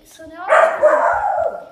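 A dog barks and yips nearby, a loud, fairly continuous burst of barking and whimpering, with a person speaking briefly over it.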